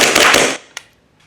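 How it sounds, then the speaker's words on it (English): An Army Armament R45 airsoft pistol, a 1911-style clone, fires a fast burst of sharp, close cracks over about half a second, followed by one lone snap and a faint click. "do the rapid firing test that I like to do on all my airsoft pistols"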